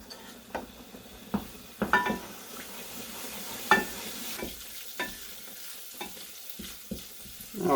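Garlic and oregano sizzle in olive oil in a pan, a soft steady fry broken by sharp clicks and scrapes of a utensil stirring against the pan, close and without talk.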